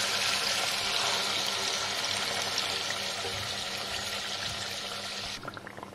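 A steady stream of water is poured into the masala for a garlic mutton curry, running loud and continuous for about five seconds before cutting off abruptly.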